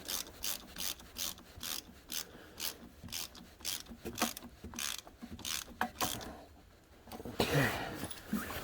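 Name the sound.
tightening a bolt while installing a Kubota BX23S block heater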